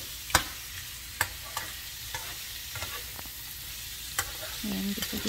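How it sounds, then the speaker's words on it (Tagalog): Pork sautés in a pan until browned, a soft steady sizzle broken by repeated scraping stirs and clinks of the utensil, close and fairly quiet with no talk. "Sisahin ng mabuti hanggang sa mag-brown siya, hanggang sa lumabas yung oil ng pork."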